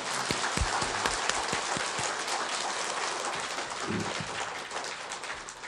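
An audience at a Buddhist temple Sunday dharma talk breaks into applause, a broad crackle of many hands with a few sharp, distinct claps standing out near the front.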